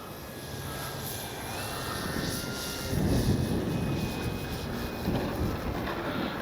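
A Hangar 9 J-3 Cub radio-control plane with a 10cc engine flies overhead, its engine a steady distant drone that swells midway, mixed with gusty wind noise on the microphone.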